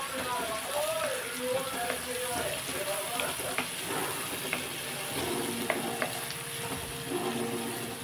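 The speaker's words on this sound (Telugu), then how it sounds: "ఇదిగోండి ఉల్లిపాయ అంతా బాగా ఫ్రై కింద అయిపోయింది కదండి" Onions with salt and turmeric frying in a pan, giving a steady moderate sizzle with occasional stirring scrapes beneath a voice.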